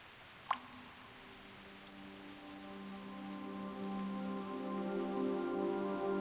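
Rain falls in the video game Reverse: 1999, a soft, steady patter that grows slightly louder. Sustained musical tones ring under it, and one sharp tap sounds near the start.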